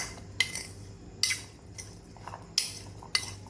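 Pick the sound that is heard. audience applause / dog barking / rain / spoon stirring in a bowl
spoon stirring in a bowl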